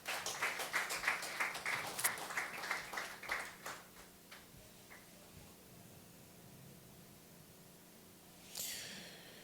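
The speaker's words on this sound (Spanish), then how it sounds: "Dale un aplauso fuerte al Rey" A church congregation breaks into loud applause for the King during a Spanish-language sermon on Romans 4, dense claps fading out over several seconds before a brief swell of noise near the end.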